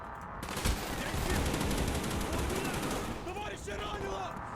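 Sustained gunfire in Call of Duty: Black Ops, a dense rattle of automatic shots running nearly the whole time, with someone talking over it near the end.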